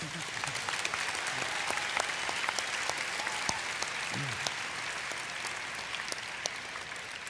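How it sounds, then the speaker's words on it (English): Audience applause fills a Minecraft convention panel at Minecon 2013, a dense, steady clapping from a large crowd that holds at an even level from start to finish. "So can we get a round of applause for the people who help us?"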